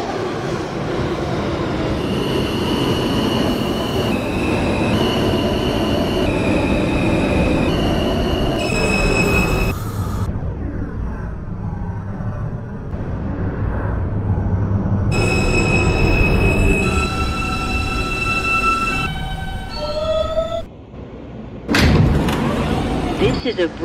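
An R160A Alstom subway train runs as a Q train in the OpenBVE simulator, with rumbling wheels, rising and falling motor whine and squealing wheels. Automated voice announcements play over the train noise at times.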